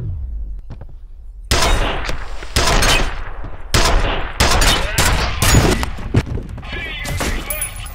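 Bursts of gunfire in the first-person shooter F.E.A.R., with sharp, loud volleys starting after a quiet opening and repeating in clusters across the rest of the stretch.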